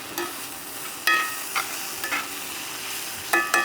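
Seasoned greens with salt, pepper and black sesame seeds are sautéed in a pan, giving a steady low sizzle with a few sharp clinks and scrapes of a utensil stirring against the pan.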